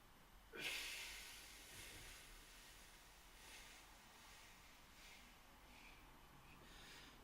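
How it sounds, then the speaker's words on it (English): A single deep exhale during a relaxed breathing exercise, a strong breathy rush at the start that slowly tapers into soft airflow and quiet room tone. "Just completely exhale again"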